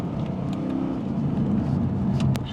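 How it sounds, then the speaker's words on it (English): A Lexus RC F Track Edition with a naturally aspirated V8 revs under light throttle, giving a steady, moderately loud low engine drone with a slight rise near the end and no talking. "you can give it some gas like that"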